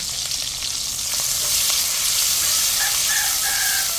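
Onion and chilli fry loudly for fried rice, a dense, steady sizzle close by, while a rooster crows faintly in the background near the end.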